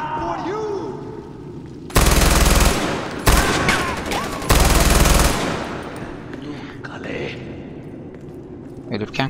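Rapid bursts of automatic gunfire ring out while helicopters are shot down in the video game Far Cry 4. The loud, dense volleys come in three long bursts separated by short gaps, and someone talks before and after them.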